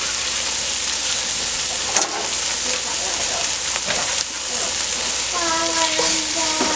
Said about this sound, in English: So we're browning the meat